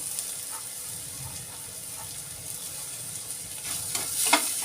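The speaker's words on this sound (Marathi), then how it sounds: "त्यामध्ये मी आलं लसूण किसून घेतलेला आहे, ते घालूया" Grated ginger and garlic added to softened, browned onion in a hot pan, giving a soft continuous sizzle and hiss with a brief rise of crackling near the end.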